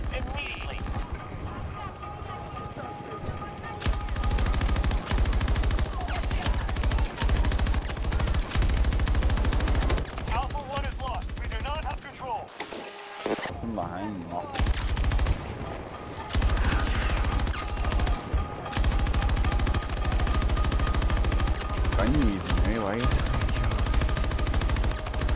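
Battlefield video game gunfire, including a light machine gun, sounds as dense continuous bursts and shots throughout, with battle noise and voices talking over it.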